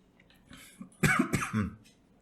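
A couple of close, sharp coughs in quick succession, preceded by a faint breathy throat sound.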